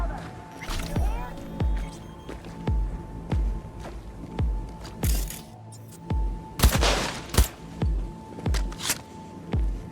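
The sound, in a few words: gunshots in the video game Cyberpunk 2077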